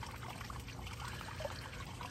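Water from a garden pond waterfall trickles and splashes steadily in the background outdoors, faint and continuous with no clear breaks.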